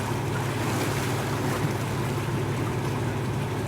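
A strong glacial river current rushes steadily at an Alaska/Yukon crossing, a dense, continuous roar of water, loud and close, with wind buffeting the microphone.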